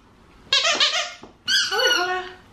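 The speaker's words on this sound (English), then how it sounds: "I got this little squeaky toy from Little Donut from Ross" Squeaky donut-shaped dog toy for a Malshi puppy, squeezed twice in close, loud, drawn-out squeals, each about a second long with a short gap between.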